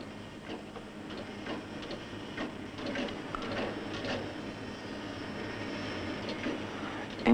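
A profile milling machine runs with a steady mechanical drone, faint ticking and a broadband hum throughout, fairly quiet and without speech.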